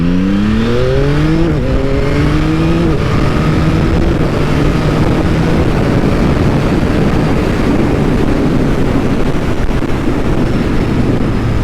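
A Yamaha MT-09 900 cc motorcycle accelerating hard in ride mode 3: engine pitch climbs through quick rising gear sweeps, then settles under heavy, constant wind roar, loud and close, no talking.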